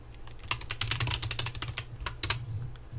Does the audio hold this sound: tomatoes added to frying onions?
no